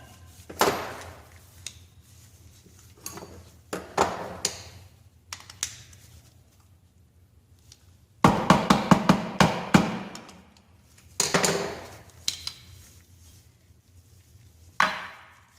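Metal knocks and scraping clatters sound while the wrist pin is pushed out of an old, 45-year-old engine during teardown. Sharp irregular taps and a dense burst of rapid clicks come up close, with quiet pauses between them.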